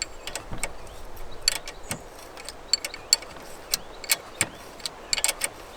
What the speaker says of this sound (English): Now I'm gonna go ahead and use a 12mm wrench here.